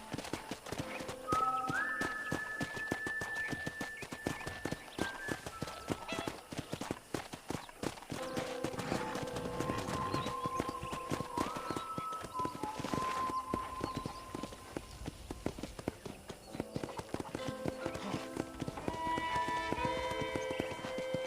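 Horse hooves clip-clopping steadily on a ranch in the video game Red Dead Redemption, a close, even rhythm running throughout beside occasional tonal game sounds.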